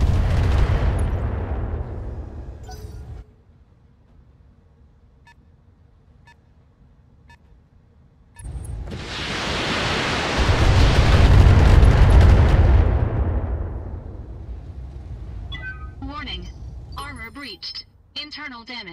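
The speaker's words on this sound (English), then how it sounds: "Firing a full salvo." A full weapons salvo in the BattleTech mech game lets loose two loud, roaring blasts of explosions separated by a quieter lull, followed by a scatter of short electronic beeps.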